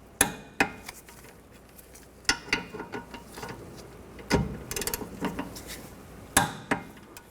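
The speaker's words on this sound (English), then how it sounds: "Now we're going to torque these bolts to 65 foot-pounds." A torque wrench tightens the rear brake caliper bolts on a 2004-2010 Toyota Sienna, with sharp metallic ratchet clicks and knocks in short separate bursts, close and fairly loud against a quiet background.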